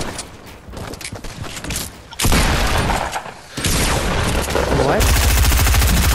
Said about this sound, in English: Oh, we're getting shot from behind too.